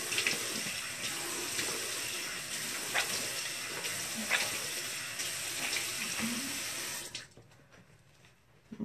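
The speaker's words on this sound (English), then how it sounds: "So I'm gonna rinse off my face" Water runs from a tap into a sink while a face is rinsed, a steady close hiss and splash with small irregular splashes, stopping abruptly near the end and leaving quiet room tone.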